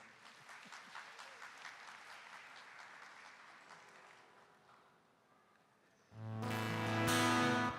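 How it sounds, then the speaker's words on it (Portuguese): An audience at a worship music event applauds warmly in a dense wash that gradually fades over about six seconds, after which loud sustained instrumental music suddenly takes over. "vamos dar uma salva de palmas para ela, gente"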